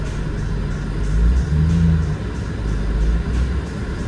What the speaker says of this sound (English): I think it's warmed up enough, we can go ahead and rev it